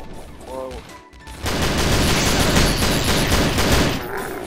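Magnum revolver gunshots in the shooter game Hideous Destructor, loud and close, with a dense roar of rapid firing that starts after a short, quieter lead-in.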